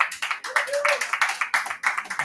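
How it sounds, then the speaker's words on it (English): Event audience at a FundedNext meetup in Nigeria breaking into brisk, close clapping with a quick irregular rhythm, over a short burst, with a faint voice tone briefly underneath. "Can you give me a round of applause again?"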